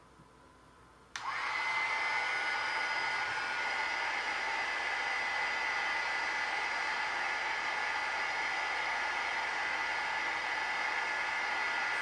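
A crafting heat gun is switched on to melt clear embossing powder on a card. It starts abruptly after a brief quiet moment and then blows a loud, steady hiss and whirr close by for the rest of the time.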